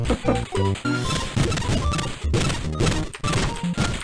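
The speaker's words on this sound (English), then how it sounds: "I like the ones that make lots of big explosions and effects. This firework gun is really cool." Firework gun in the VR shooter Birds With Guns sets off a dense run of loud explosive bursts and impacts over constant game music, with no one talking.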